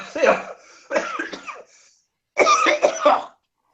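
Three harsh coughs in quick succession from a single person, close to the microphone and loud, separated by short gaps of silence, the last burst the longest and most forceful.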